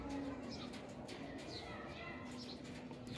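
Pigeon cooing among a keeper's pigeons, soft low coos that are distant and faint, mixed with a few brief flutters and ambient noise.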